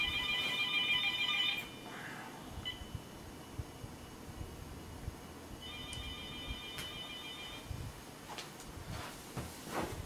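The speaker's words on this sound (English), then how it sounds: "I got to answer the phone real quick." A telephone rings with a bright electronic trill, one burst at the start and a second fainter burst midway, over steady background hiss in a room.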